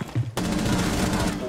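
A sudden burst of rapid automatic gunfire from Rainbow Six Siege cuts in after a brief moment of voice and then rattles on continuously, loud and close.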